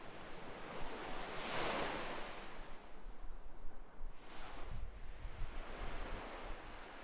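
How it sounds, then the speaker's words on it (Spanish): Ocean waves wash onto a beach shore in slow surging swells, a broad rushing hiss rising and falling with some wind, with no voices. "Déjate llevar por el sonido hipnótico de las olas acariciando suavemente la orilla."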